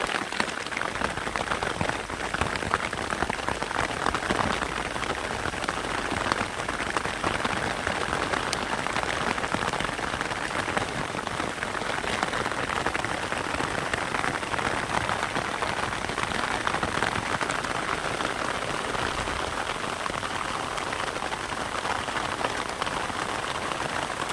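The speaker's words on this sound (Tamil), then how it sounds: "இவ்வளோ மழை வரும்னு எதிர்பார்க்கவே இல்லை" Heavy rain pours down in a dense, constant roar of drops hitting surfaces, steady and loud throughout with no voices.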